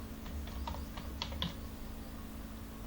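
Computer keyboard typing in short bursts of quick clicks while entering a field in MS Access, fairly faint over a steady low background hum, then tapering to quiet hum alone.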